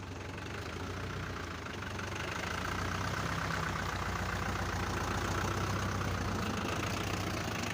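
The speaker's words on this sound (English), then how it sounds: "We'll move on to our next tractor, which is another Sami." A 1985 Sami Explorer 75 two-wheel-drive farm tractor idles with a steady, low, knocking diesel rumble. It is heard close and alone, growing slightly louder partway through.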